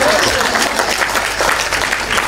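A burst of loud, dense applause from a church sermon audience, steady clapping filling the whole moment.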